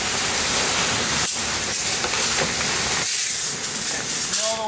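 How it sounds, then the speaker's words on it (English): Loud, steady steam hissing from a fire being put out during a fire investigation in Milpitas, California, a broad continuous rush close by with brief dips. "If you smell the white smoke, that's all your steam."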